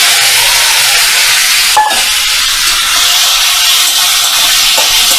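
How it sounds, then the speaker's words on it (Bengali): Fried ridge gourd pieces drop into a pan of sizzling ginger paste, a steady loud hiss broken by a brief clatter and stirring as they go in. "এবার ভাজা করা ঝিঙেগুলো আমি এর মধ্যে দিয়ে দেব"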